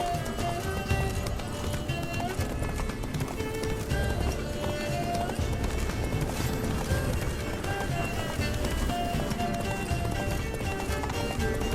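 Roach, Geralt's horse in The Witcher 3, galloping in a rapid, steady clip-clop of hooves under a dense game soundtrack, loud and close, continuing throughout.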